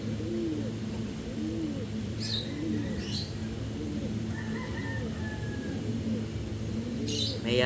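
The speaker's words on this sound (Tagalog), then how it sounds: "Mayayain yung kalapati ko sa camera" Pigeons coo in a steady low rolling murmur that fills the whole stretch, with a few brief higher chirps from other birds cutting in faintly.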